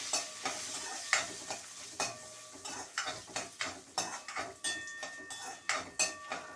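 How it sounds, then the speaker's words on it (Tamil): Green chillies frying in a pan, with a low sizzle under repeated scraping and clinking strokes of a spoon stirring them, steady and close, with no talk. "இந்த பச்சை மிளகா போட்டு நல்லா வறுத்துக்கணும்."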